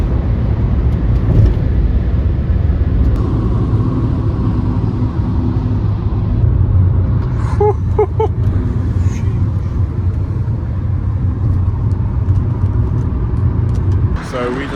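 Car cruising on a German Autobahn, a loud steady interior road rumble and engine drone with tire noise throughout, while people talk over it inside the cabin.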